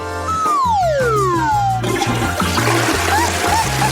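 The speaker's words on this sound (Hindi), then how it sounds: "तुमने इसे फ्लश क्यों किया?" Toilet flush in a bathroom: a close, rushing swirl of water follows a falling tone and rhythmic electronic music that continues underneath.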